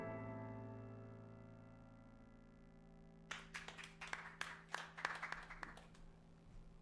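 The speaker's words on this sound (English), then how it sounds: "Was that one round of applause?" In the video game Deadly Premonition, a short burst of applause breaks in after a quiet tonal drone, with several scattered claps quickly swelling and then thinning out, faint and slightly distant.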